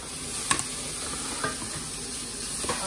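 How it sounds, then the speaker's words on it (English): Rashers of bacon sizzle in a pan at a steady low level, with a few sharp clicks of a utensil against the pan. "Let's just put in the bacon"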